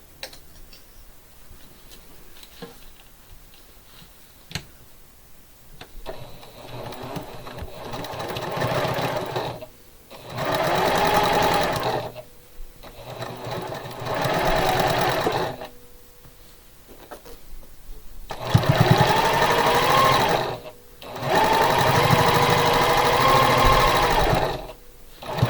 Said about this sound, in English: I'm going to sew this one.